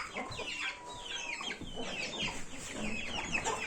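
Taşibik chickens and their chicks cluck and peep nearby in overlapping bursts, with high chirps from the chicks, quiet and continuous.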